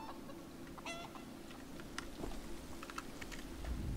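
Chickens cluck faintly in The Elder Scrolls Online, with a few short, thin clucks and squawks over a quiet game background and some soft tapping.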